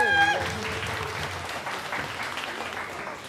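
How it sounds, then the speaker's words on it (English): An audience applauds a performer at a youth spoken-word event, a burst of clapping from a moderate crowd that starts at once and gradually fades. "Round of applause, please."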